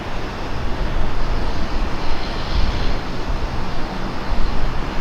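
Airplane taking off from a runway at Portland airport, a steady broadband engine roar holding loud and even throughout with no pauses.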